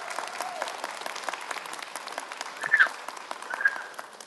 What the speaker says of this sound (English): Would you mind cheering for them one more time?